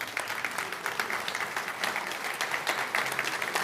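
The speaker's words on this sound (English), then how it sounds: "Round of applause." Steady applause from an audience at a Ghana–UK investment summit, a dense continuous patter of many hands clapping at even loudness throughout, with no voices over it.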